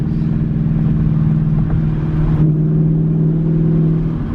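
A 2021 Ford Mustang GT with an X-pipe exhaust holds a steady, loud low engine drone under load, its pitch rising slightly as it pulls, continuous throughout.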